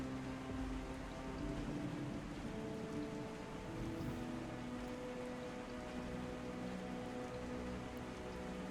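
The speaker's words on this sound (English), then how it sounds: "The rain is coming down." Steady rain falling in a forest as an ambient effect, a dense constant patter with low rumbling beneath, even and unbroken throughout.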